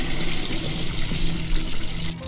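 A toilet flushes in the Death Flush video game, a steady, loud rush of gushing water that lasts about two seconds and then cuts off sharply.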